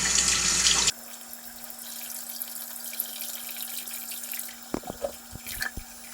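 Tap water runs into a sink, a bright rushing stream that stops abruptly, followed by quiet room tone with a steady low hum and a few scattered drips and clunks.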